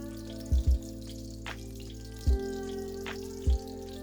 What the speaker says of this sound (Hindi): ये फ्राई होती जा रही है